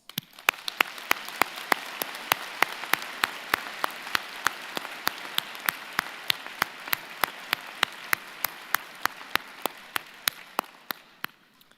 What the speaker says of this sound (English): join me and the platform here in thanking them with a vigorous round of applause